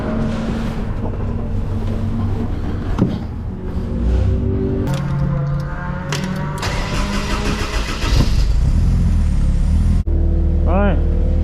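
A kit car's engine starts and revs as it heads out for a track day, loud and close with rising and falling throttle bursts and a steady idle, voices speaking over it.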